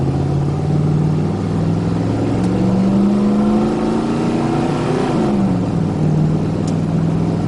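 An RV tow vehicle's engine drones steadily nearby, its pitch rising and falling as it revs and pulls away to drive.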